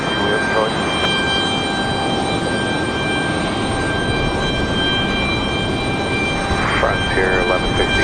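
A Frontier airliner lands at Raleigh-Durham airport with a continuous loud engine roar and a sustained whine. Voices are heard faintly beneath the roar.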